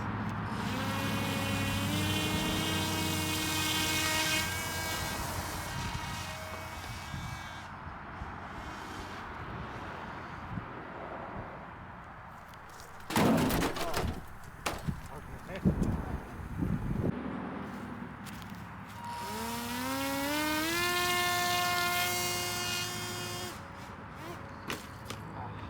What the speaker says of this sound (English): I'm actually going to take it and grab it and throw it for takeoff because of the wind that we have out here